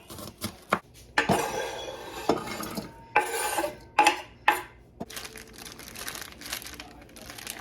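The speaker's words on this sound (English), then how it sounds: "I'm going to slice these onions up and put them in with the peppers for something later" Knife strokes on a cutting board as onions are sliced in a home kitchen, a series of short, sharp chops in irregular bursts, close and moderately loud, with no talk.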